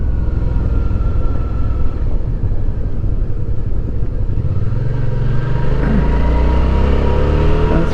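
Car engine climbing a steep switchback mountain road in third gear, straining where second would suit. The engine drone is loud, close and continuous, and its pitch rises toward the end.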